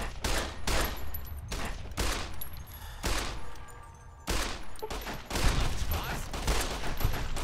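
Pistol shots in Fallout New Vegas, a loud series of sharp reports spaced roughly half a second to a second apart, with game ambience in between.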